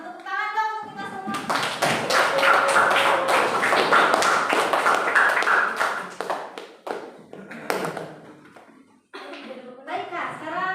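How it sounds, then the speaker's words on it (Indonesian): A group in a classroom-style session claps hands together in a sustained burst of close, sharp taps lasting several seconds, with voices and someone speaking around it before it trails off into scattered claps. "Tepuk tangan dong untuk kita semua."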